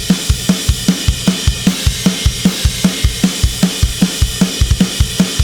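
Metal drum groove for a Helldivers 2 theme cover, played in 4/4: punchy kick and snare hits land in a steady, driving rhythm, with a bright cymbal wash sustained on top, loud and close with no voices.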